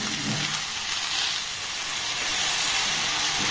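Sugarcane jaggery added to a pan of cooking amla, giving a steady, close sizzling hiss throughout with no pauses.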